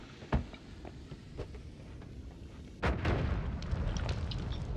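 Bomb explosions in the roguelike game Noita: a sharp blast early on, some smaller pops, then a bigger booming explosion followed by crumbling, crackling debris that continues to the end.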